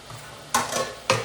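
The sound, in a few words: stirring spices into fried potato chips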